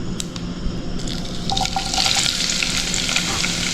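Onions sizzling in a hot pan, a steady close frying hiss with light crackles and popping that swell slightly toward the end, with no talking.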